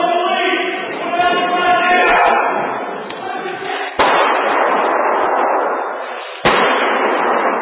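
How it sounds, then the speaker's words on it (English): Gunshots ring out in a muffled, echoing space inside a building, with two sharp cracks in succession followed by reverberating noise. "then gunshots."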